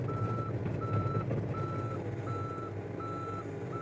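A mini excavator engine runs steadily at close range, its blade pushing loose material into a trench, while an intermittent reversing beep sounds throughout.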